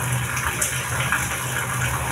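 Rain falling outside a house, a steady, even rushing of water that holds at the same level without breaks for the whole stretch.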